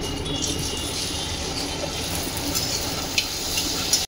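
Semolina (suji) frying and being stirred in a pan, a dense, steady sizzle with soft scraping of the stirring utensil, close-up and continuous.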